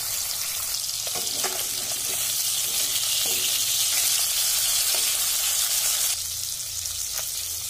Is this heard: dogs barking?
no